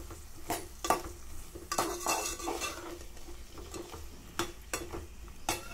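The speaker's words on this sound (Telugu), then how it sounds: "ఆలుగడ్డలు మంచిగా ఉడకాలండి. ఆయిల్లోనే మగ్గిపోవాలి" Ridge gourd and potato curry cooking in oil, stirred with a metal spoon that clinks and scrapes against the pan in irregular knocks over a soft, steady sizzle close by.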